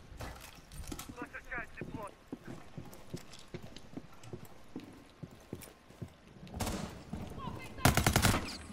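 Rainbow Six Siege gameplay with scattered clattering and footstep-like taps, then two loud bursts of rapid gunfire near the end. Players talk over the action.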